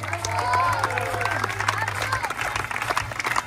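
A crowd applauds at the end of a high-diving show at the Walibi Rhône-Alpes park, loud sustained clapping and crowd noise as an announcer's amplified voice speaks over it.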